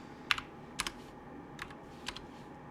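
Sparse keystrokes on a computer keyboard, a handful of light clicks and paired taps at uneven intervals, close and clear over a quiet background while editing quotation marks in code.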